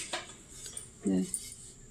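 Antique brass idli steamer pot with knob lid and side handles being handled, light metallic clinks followed by one brief ringing clang, close and quiet.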